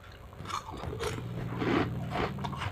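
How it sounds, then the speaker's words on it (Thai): Crisp, freshly fried pork rinds being bitten and chewed close up, a run of sharp crackling crunches in an uneven rhythm, with no talk. "อืมอร่อยกรอบมากเลย"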